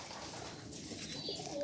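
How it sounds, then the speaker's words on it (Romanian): Pigeons softly cooing in a Romanian pigeon loft, a faint, low, throaty coo in a brief stretch of quiet background noise. "Vin câte 5-6 între porumbeii noștri."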